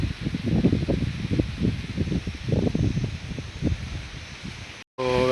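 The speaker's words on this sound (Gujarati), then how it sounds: "પવન ચાલુ થઈ ગયો અને રાવણા ઝાડ છે" Trees on a farm rustle in gusting wind, their leaves swishing in soft uneven surges close to the microphone, with wind buffeting the mic, before a brief dropout near the end.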